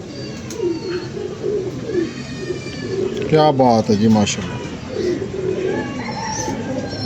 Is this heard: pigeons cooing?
yes